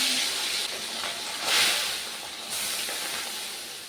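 Small fish frying in oil in a pan while cooking a Bengali meal, a steady broadband sizzle and hiss that swells briefly in the middle, with no talk.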